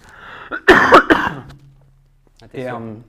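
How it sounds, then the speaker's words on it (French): A couple of sharp, close coughs, then a short throat-clearing sound, followed by a brief voiced murmur. "Pardon, je dois tousser."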